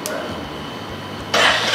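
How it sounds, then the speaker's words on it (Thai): A Royal Enfield Classic 350 motorcycle starts up, with a low mechanical churn followed by a sudden louder burst as the engine catches near the end of the brief clip. "เดี๋ยวเรามาลองสตาร์ทเครื่องยนต์แล้วก็มาดู สัญญาณไฟบนหน้าจอนะคะ"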